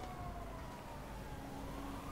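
Police car siren in the video game GTA V Online, a faint wailing tone rising slowly under a steady wash of engine and road noise from the game.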